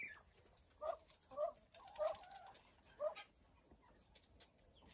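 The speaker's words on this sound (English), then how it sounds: "I guess the hens are talking to each other" Hens in a backyard poultry flock call back and forth, with four or five short clucking and squawking notes spaced irregularly over a few seconds. The calls sound faint and somewhat distant over a quiet background.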